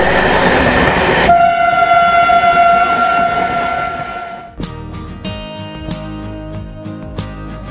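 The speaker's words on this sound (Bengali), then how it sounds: "ট্রেন আসছে, অ্যানাউন্স করে দিয়েছে।" A Shantipur local train arrives at a station and sounds a long, loud horn. Heavy rail rumble and clatter carry on past the horn, then a quieter rolling roar with brake squeals and metallic tones as it comes in.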